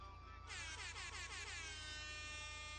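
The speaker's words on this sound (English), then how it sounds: "Oh, air horns." Air horns blare in a Grand Theft Auto V game session, a sustained loud multi-tone horn blast that swells in with wavering pitch and then holds steady.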